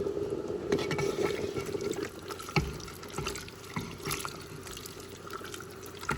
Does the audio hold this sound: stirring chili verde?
yes